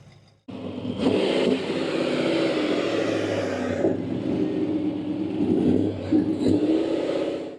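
A race car engine, likely a gasser at an indoor car show move-in, roars close and loud after a brief quiet start, holding a steady throaty drone with slight revving surges for several seconds.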